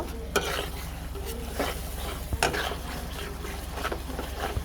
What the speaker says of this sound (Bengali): মশলাটা আমি একটু ভালোভাবে কষাই নেব